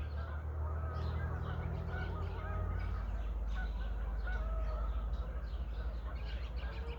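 Canada geese flying in and out near an RV, their honking calls scattered across a steady outdoor background with low rumble, fairly faint and overlapping throughout.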